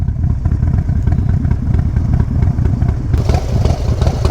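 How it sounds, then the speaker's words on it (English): A custom motorcycle idles loudly and close by at a car and bike show. The engine keeps a steady, rough, low-pitched thumping pulse throughout, with a brief rise in background noise near the end. "God, I love listening to this thing idle"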